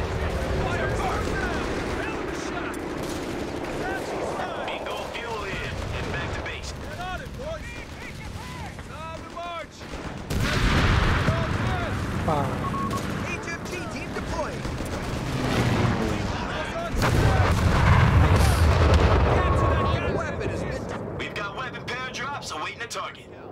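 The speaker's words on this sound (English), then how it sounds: "HMG team and a buttload of rounds dropping in" Company of Heroes 3 combat: heavy machine gun fire and artillery rounds rumble and boom continuously, swelling into louder explosive bursts, with a voice talking over the battle throughout.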